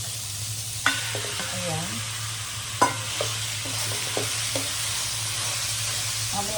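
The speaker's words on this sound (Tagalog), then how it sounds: "Lagyan na po natin yung giniling ng pork." Ground pork sizzles steadily in a pan alongside potato and bay leaf, with a few sharp clanks and scrapes from stirring breaking through the constant frying hiss.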